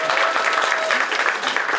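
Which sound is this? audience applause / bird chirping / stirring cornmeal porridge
audience applause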